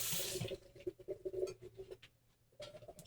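About 3.5 cups of hot water poured into a pot for a pork stew, a close splashing gush that breaks into trickles and drips before a second pour.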